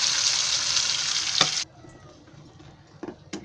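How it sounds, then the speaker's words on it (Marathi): Onion and tomato paste with garam masala and ginger-garlic paste sizzles hard in hot oil, then the frying noise drops abruptly to a faint simmer with a few scattered knocks. "आता हे कांदा आणि टोमॅटो आहेत ना पेस्ट बनवलेली ती टाकते."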